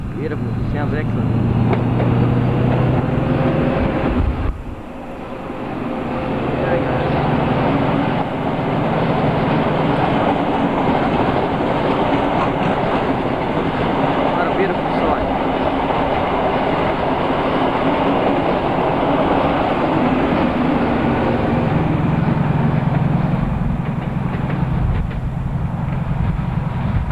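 The Riverina XPT passenger train arrives loudly and close by, its diesel roar and wheels on the rails rumbling steadily throughout, with a voice commenting over it at times.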